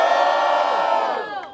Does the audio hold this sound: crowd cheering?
yes